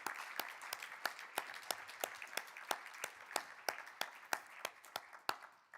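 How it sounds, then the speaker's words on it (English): Small audience giving a round of applause after a devotional talk by Brother Arvind, distinct individual claps in a loose, fairly quiet rhythm. "Please give a huge round of applause to our Brother Arvind."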